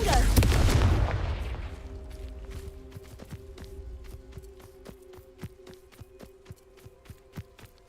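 A Confringo blasting spell explosion in a video game: one loud booming blast opens, then rumbles and fades over a couple of seconds, followed by a steady run of soft footsteps over a faint tonal hum.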